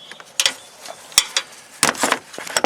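A ratchet wrench working on the oil temperature sensor of a 2007 Dodge Magnum, giving short bursts of metallic clicking and scraping with pauses between them, close up and without talk.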